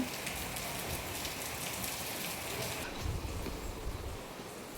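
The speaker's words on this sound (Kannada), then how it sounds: "ಮಳೆ ನೋಡಿ ಎಷ್ಟು ಚೆನ್ನಾಗಿ ಬರ್ತಾಯಿದೆ ಮಳೆ" Steady rain pours down, a dense even hiss of drops striking surfaces, with no voices.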